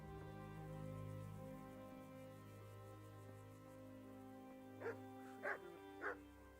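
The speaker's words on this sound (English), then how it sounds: "The dog alerts him." A dog in the medieval game Kingdom Come: Deliverance gives three short barks in quick succession near the end, over a quiet, humming game background.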